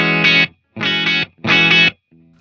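An electric guitar run through a booster on a Line 6 HX Stomp hits three loud, gritty, chopped chords in a steady rhythm, then leaves a faint low ring.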